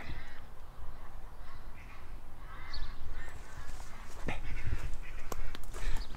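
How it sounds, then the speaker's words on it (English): Ducks quack intermittently outdoors amid wind and background noise, calls rising and falling at moderate distance with occasional sharper squawks. "Hearing some ducks"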